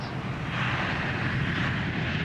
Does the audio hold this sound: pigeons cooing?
no